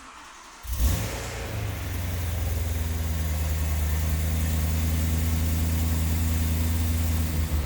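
A supercharged BMW M3 E92 with a tuned exhaust cranks over with a short burst, catches, then settles into a steady, loud, rumbling idle close by, with no talking.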